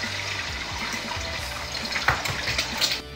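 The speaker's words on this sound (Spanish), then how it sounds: "Ahora vamos a freír unos huevos." Eggs fry in a pan while Mexican chilaquiles verdes are being made, giving a steady, close sizzling hiss with crackly spikes and no voices.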